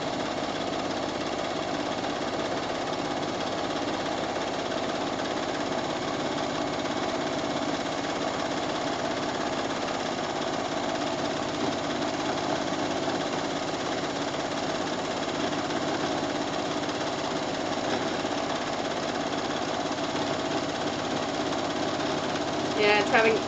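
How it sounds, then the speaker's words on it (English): A sewing machine doing free motion quilting on fabric with no stabilizer, a steady fast mechanical whirring and needle chatter running continuously and close. "Because it takes a lot of focus to quilt this without any stabilizer in it."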